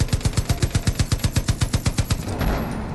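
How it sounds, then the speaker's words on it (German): A cannon-armed truck in Far Cry 5 fires a rapid, even burst of about twenty loud booming shots, ending in a rumbling wash of explosion noise. "Ist ja geil, so ein LKW-Truck mit Kanonen."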